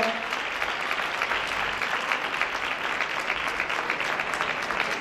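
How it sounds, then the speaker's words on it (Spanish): Audience applause at a carnival prize ceremony, as winners gather on stage: steady, dense clapping from a large crowd that fills the whole stretch at an even level, with no break or build. "Todos los premiados sobre el escenario, fuerte el aplauso para todos."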